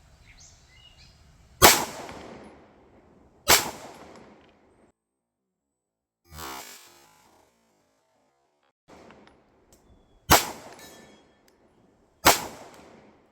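Five sharp, loud pistol shots from a Fusion Firearms XF Pro with a ported barrel, spaced irregularly a second or more apart, each with a short ringing tail, plus a brief clatter between shots and no talking.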